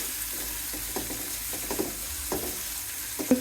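Vegetables with dried loitta fish frying in a pan, a close, steady sizzle broken by repeated scraping stirs at an irregular rhythm, with no voices.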